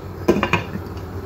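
A metal lid clanks onto a pot of simmering lamb stew, giving a few quick close rattles that settle within a second.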